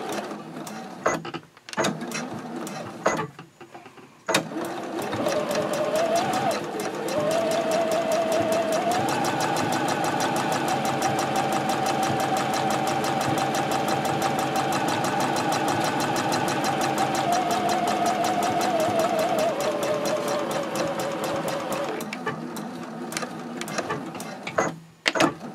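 A sewing machine stitches double-fold elastic onto netting at a 3.0 stitch length, with a few short starts followed by a long, steady run of rapid close needle chatter that stops near the end.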